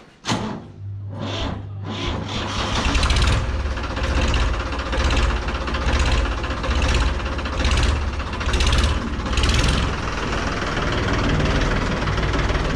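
A Ford 3600 tractor engine cranks with a few sharp starter bursts, then catches and settles into a steady, loud diesel chug at idle, close by and continuing without talk.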